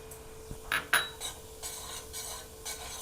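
Semolina stirred and roasted in ghee in a pan for moong dal halwa, giving a few short scraping and rubbing strokes of a spoon against the pan, close and fairly quiet, no talking.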